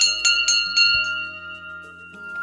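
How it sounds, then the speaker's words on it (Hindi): A small metal prayer bell at a temple's morning worship is struck several times in quick succession, each bright ring overlapping, then its clear tone lingers and slowly decays. "और यहाँ पे अभी एक घंटी बजा देती हूँ"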